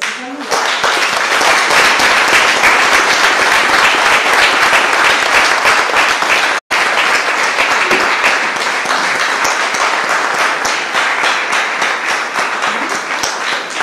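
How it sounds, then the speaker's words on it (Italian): Sustained audience applause fills a conference hall at a gathering marking six years since the 2012 Emilia earthquake, dense and steady for about fourteen seconds with one abrupt momentary cut midway. "Quindi chiedo un applauso a sostegno di questi candidati."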